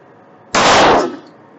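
A single sharp 9mm pistol shot from a SIG P365 XL fired through a chronograph, loud and close, with a short decaying echo afterward.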